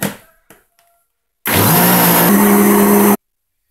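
A kitchen blender roars loudly and steadily for almost two seconds as it blends homemade condensed milk from powdered milk, sugar and boiling water, its motor pitch dropping slightly as the mixture thickens; a few faint knocks come before it, with no talk.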